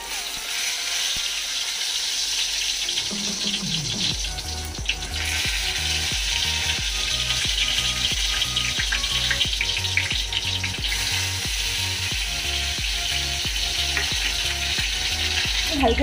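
Stuffed brinjal dropped into hot mustard oil in a pan: a steady loud sizzle, then repeated rhythmic metallic clicks and rattles over the continuous frying hiss.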